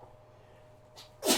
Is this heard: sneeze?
yes